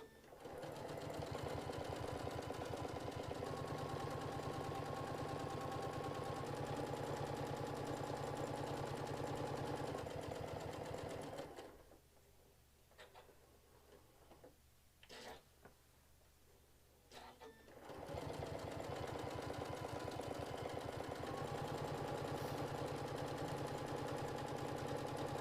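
A sewing machine runs loud and continuous while stitching a fabric tray, then stops for about six seconds of quiet handling noises before starting up again at a steady pace.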